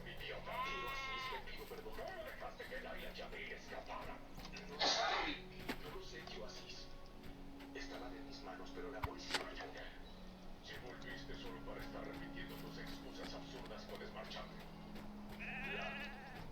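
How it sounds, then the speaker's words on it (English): Sheep bleating in the Lord of the Rings Online video game, several short wavering bleats at moderate volume over background game ambience, with someone talking across much of the stretch. "Can I collect 2 sheep at a time?"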